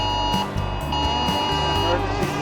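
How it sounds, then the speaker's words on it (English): A steady, piercing electronic alert tone sounds from cell phones inside an RV climbing a mountain pass, held unbroken through the whole stretch above a pulsing low engine rumble. "it was the emergency broadcast system"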